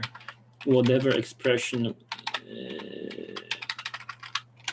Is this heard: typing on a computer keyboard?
yes